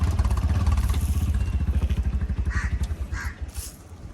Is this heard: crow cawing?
yes